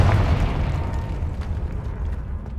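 Confringo blasting spell going off in Hogwarts Legacy, a dense rumbling burst with a boomy low-end swell at the start that settles into a sustained crackling roar, fairly loud with no talk over it.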